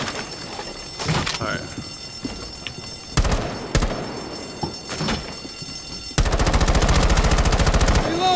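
Rainbow Six Siege gunfire: scattered loud single shots and bursts, then a sustained rapid-fire stream as a magazine is emptied, close and harsh, with voices in the background.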